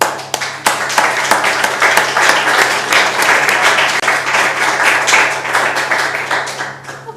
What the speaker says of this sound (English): So I ask you to clap at them, because I think they've done a great job.